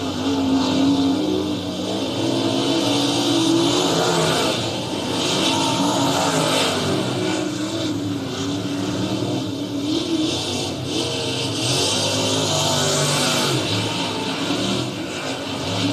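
Race cars lap Southern Oregon Speedway in Medford, Oregon, their engines roaring continuously and loudly at a distance, revving and droning as cars circle the track.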